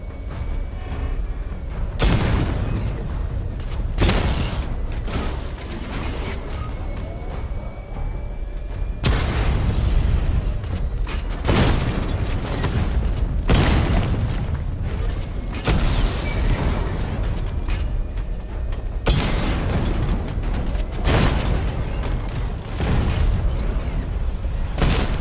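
Missile barrage explosions in Batman: Arkham Knight come as a rapid string of loud, booming blasts over a continuous mechanical rumble. Sharp impacts repeat every second or two through the whole stretch, with no talking.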